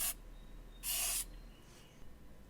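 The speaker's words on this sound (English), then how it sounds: "I'm going to spray down the rear brakes before we get started." Two short aerosol sprays of brake cleaner hiss onto a Mustang's rear brakes, the second longer and louder, then a faint third puff, with quiet gaps between.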